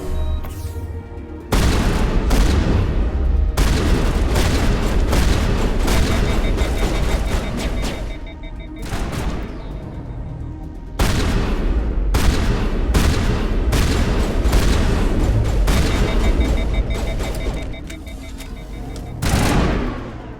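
Heavy sustained gunfire from the Mass Effect video game, dense bursts of rapid shots rolling almost continuously and loud, with brief lulls between volleys.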